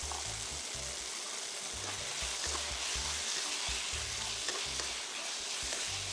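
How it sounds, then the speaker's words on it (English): Ginger, garlic and green onion whites frying in a pan, a continuous close hiss of sizzling oil with soft intermittent stirring bumps, no talking. "Fry all this for about a minute."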